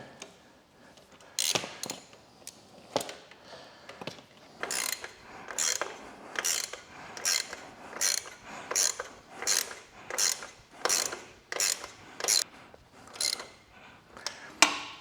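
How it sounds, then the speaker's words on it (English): Ratchet wrench tightening the bolts on a Ducati Desert X rear shock, a run of repeated sharp clicking bursts in steady rhythm, close and fairly loud, with no talk. "All right, that's the bottom tightened up."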